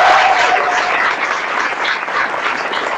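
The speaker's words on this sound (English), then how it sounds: "Round of applause." A crowd at PAX East 2012 applauds panel hosts at a StarCraft State of the Game live show, a loud, dense roar of clapping that holds steady and close.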